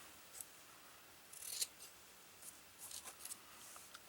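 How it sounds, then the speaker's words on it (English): Small scissors snipping tiny paper gloves for a gingerbread man ornament craft, quiet close crisp snips in short irregular bursts, a few clustered together, against a near-silent room. "Cut some little tiny gloves."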